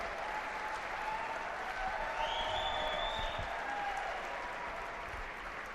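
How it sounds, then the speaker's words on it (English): A squash crowd at a tournament final applauds steadily after a rally, a dense continuous clatter of clapping that holds evenly throughout and tapers slightly at the end, with a faint voice briefly audible beneath. "the crowd showing their appreciation to both players for such a great rally"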